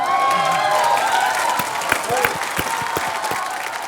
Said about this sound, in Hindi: वो जल्दी तालियां बजाई इन्होंने।